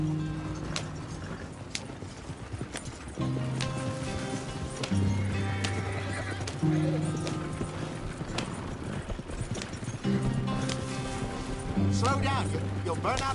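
Horses clip-clopping along under a steady bed of music and ambient noise from the video game Red Dead Redemption 2, hoofbeats continuous and moderately near throughout.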